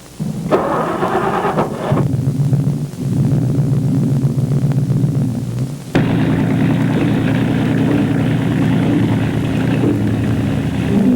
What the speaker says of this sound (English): All that remained was to start the engine.